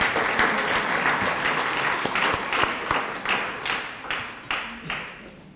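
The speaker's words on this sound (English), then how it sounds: "Can we give Dolores another round of applause?" Audience applause for an honoree at a women's commission event: full, even clapping that gradually thins into separate claps and fades toward the end.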